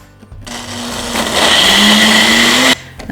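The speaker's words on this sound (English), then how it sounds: "blend this on high till it is smooth and creamy" A blender whirs steadily on high, blending a protein caramel apple smoothie with dates and Greek yogurt, rising in pitch and loudness before cutting off abruptly near the end.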